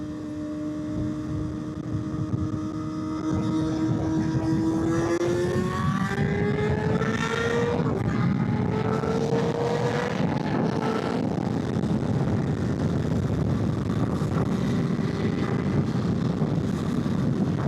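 A 600 nicknamed the Dirty 6 accelerating toward top speed, its engine tone climbing steadily in pitch through successive rises before settling into a loud, steady drone with heavy wind rush.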